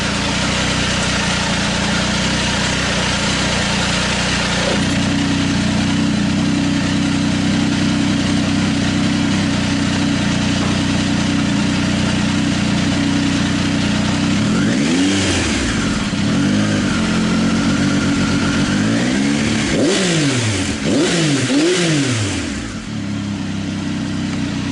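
A 2019 Triumph Tiger 800 XRT triple idles loudly through a Fuel Diablo carbon muffler with the baffle removed, a steady close rumble broken by several sharp throttle blips and revs near the end.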